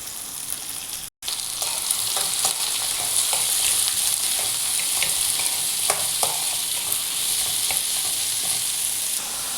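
Chopped onions with mustard seeds, cumin, green chillies and curry leaves stir-fry in a pan, a steady close sizzle broken by a brief dropout and punctuated by scraping spatula clicks, no talking.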